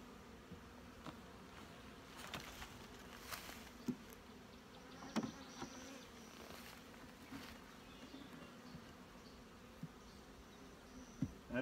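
Honeybees from a colony being split into nucs hum and buzz steadily at a moderate level, with occasional knocks and thumps from frames and hive parts being handled.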